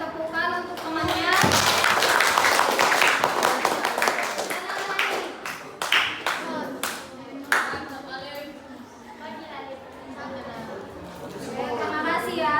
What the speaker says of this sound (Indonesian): beri tepukan untuk temannya